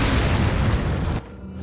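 A grenade explodes in Resident Evil 4, a loud, close, broadband boom that fills the first second before cutting off abruptly into a quieter tail.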